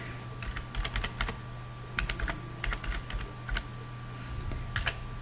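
Typing on a computer keyboard while entering invoice details in Excel, with irregular clusters of crisp keystrokes and short pauses, close and clear with no talking.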